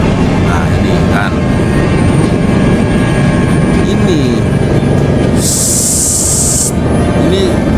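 Loud continuous aircraft engine roar from a Bombardier CL-415MP water bomber flying, steady and close, with a brief high whine rising partway through.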